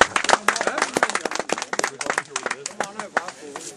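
An audience at a trolling fishing club's prize draw claps irregularly, with sharp close hand claps scattered throughout as people talk over them.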